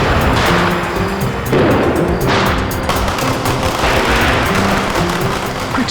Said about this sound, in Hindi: पटाखे जलाते हैं